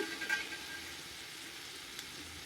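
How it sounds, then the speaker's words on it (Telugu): Mint and coriander leaves fry in a pan for chutney. A steady, soft sizzle and crackle holds at an even level with no break. "ఇవన్నీ కూడా బాగా ఫ్రై చేసుకో"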